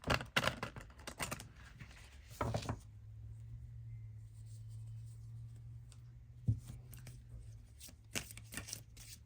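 Halloween Oracle cards being shuffled close by, with a busy riffling flurry at the start, then a quiet stretch over a low hum, and a few soft card taps near the end.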